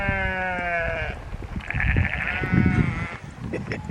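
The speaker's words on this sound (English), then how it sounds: "These sheep are very talkative." Sheep bleating on a hillside on the Isle of Skye, several loud nearby bleats in quick succession, overlapping calls with some outdoor background noise.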